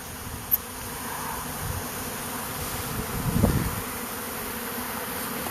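Honeybee swarm moving into a custom-built hive, a low steady buzz of many bees at moderate distance, briefly swelling louder as a cluster passes close, then settling back.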